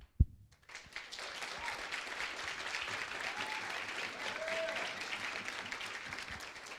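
Audience applause at a CapaCiTi and City of Cape Town graduation ceremony in July 2022: a steady wash of many hands clapping, moderately loud, rising after a brief thump and continuing evenly without pause.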